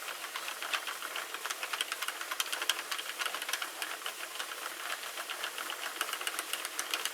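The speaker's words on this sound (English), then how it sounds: "we're going to crank. Just gonna crank up a bunch of rows" A Sentro knitting machine loaded with JoAnn Big Twist acrylic yarn is cranked through rows, making a quiet, continuous run of light plastic clicks and ticks at a steady pace.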